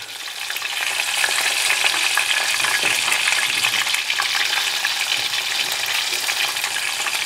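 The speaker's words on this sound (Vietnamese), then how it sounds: "chiên hết cái này, mình chiên lần thứ hai nữa nè." Food sizzles steadily in hot oil during a second frying, a dense continuous crackle with fine popping that stays loud and close throughout, with no talking over it.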